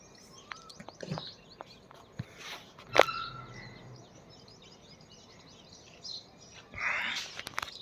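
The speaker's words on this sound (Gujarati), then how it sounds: "પક્ષી કલબલાટ કરે છે." Birds chirp outdoors in scattered, faint calls, with a couple of sharper chirps standing out over soft rustling and occasional light thumps.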